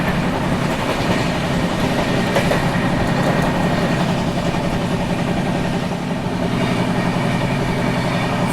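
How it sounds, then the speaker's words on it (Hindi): Kaifiyat Express passenger train rolling into a station, a loud steady rumble of engine and wagons with faint clickety-clack throughout, no voices. "ये आ रही है आपकी कैफियत एक्सप्रेस।"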